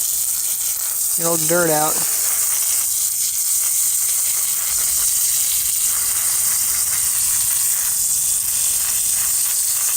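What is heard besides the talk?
hosing water over an air conditioner filter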